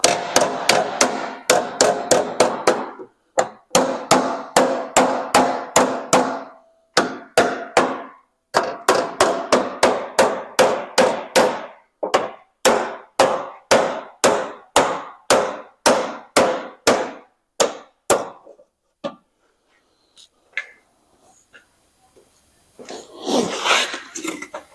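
A hammer pounds a dent back out of metal in loud, rapid strikes, delivered in bursts of repeated blows separated by short pauses, with the strikes thinning out toward the end.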